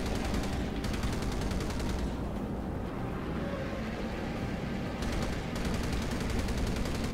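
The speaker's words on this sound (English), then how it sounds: "We're taking fire." Rapid automatic gunfire rattles in bursts over a dense, roaring battle din in the Battlestations Pacific naval combat game, with the firing stopping midway and then resuming, loud and continuous with no talk.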